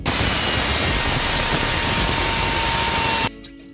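A power tool cuts a stainless steel exhaust pipe bend on a turbo Micra: a loud, steady hissing, roaring noise for about three seconds that stops abruptly, leaving a quieter ringing tail, no talk.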